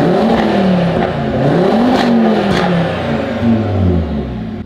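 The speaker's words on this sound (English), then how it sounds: "The top end sounds so much nicer." An Audi RS3 fitted with a 034 Motorsport exhaust revs hard several times, its five-cylinder roar rising and falling in loud, close sweeps with popping crackle.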